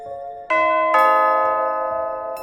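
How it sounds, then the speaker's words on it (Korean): A two-tone ding-dong doorbell chimes in a quiet home at night, its strong ringing tones hitting twice in close succession and then sustaining and fading slowly, with no one talking. "누군가 초인종을 눌렀어."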